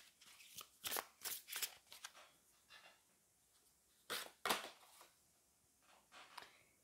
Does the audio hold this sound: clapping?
no